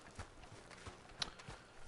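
A horse's hooves clop in the Red Dead Online video game, several soft irregular footfalls at a walking pace, fairly quiet with no talk over them.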